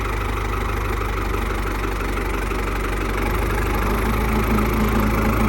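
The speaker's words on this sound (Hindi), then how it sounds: "अभी अबू जान ट्रैक्टर चलाएंगे और सुहागा फेरेंगे खेत में।" A farm tractor engine idles loud and close in a steady, unbroken low drone with a slight knocking throb, running alone with no voices.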